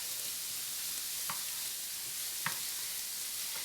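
Half a small-to-medium onion sautés in a pan with a quiet, steady sizzle, broken by two soft clinks of a utensil against the pan.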